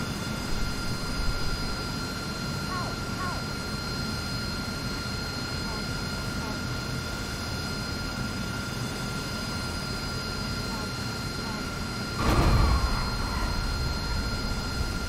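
A game aircraft comes in to land with the throttle at zero in a flight or combat simulator, its engine a steady droning hum with whining tones, and a single dull thump near the end.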